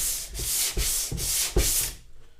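Sandpaper rubbing by hand on a Renault Laguna 2 car headlight lens, five or six rhythmic back-and-forth scrubbing strokes, close and fairly soft, ending in quiet.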